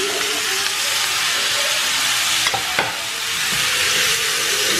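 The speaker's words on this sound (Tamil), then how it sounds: "ஸோ மொத்தமாக ஒன்றாவே போட்டு வதக்கிற போகிறேன்." Curry leaves and onions sauté in a hot pan for tomato sambar, giving a steady close sizzle and hiss throughout with a couple of brief stirring scrapes near the end, no voices.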